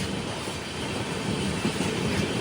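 Heard from aboard a moving long-distance express, a Humsafar train from Agartala to Bangalore overtakes on a parallel track, giving a steady, close rumble of rolling wagons and wheels with no talking.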